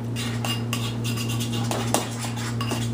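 A spoon stirs whey protein and stevia in a dish, making quick scraping, clinking strokes up close over a steady background hum.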